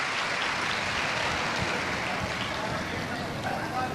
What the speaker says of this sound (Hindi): एक बार जोरदार ताली बजाकर बाबा जी के लिए बहुत बहुत साधुता।